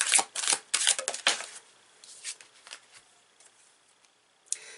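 A tarot deck is shuffled by hand in quick, crisp riffling bursts, loud and close at first, then thinning into softer scattered card taps and slides, with no talking.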